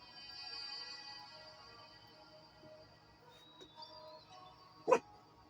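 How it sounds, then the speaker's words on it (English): Dogs indoors let out faint whimpers and a single sharp bark near the end, set against a quiet room with a faint steady hum. "Don't come in here barking"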